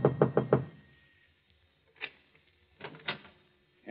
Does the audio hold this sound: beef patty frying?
no